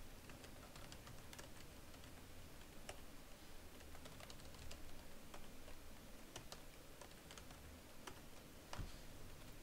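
Keys clatter on a computer keyboard in a quiet room, with soft, irregular clicks that keep going throughout, faint and close.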